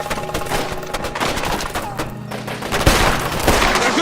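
Dense, rapid pistol gunfire in a TV drama shootout, overlapping shots and impacts forming a continuous loud barrage, with brief shouted voices mixed in.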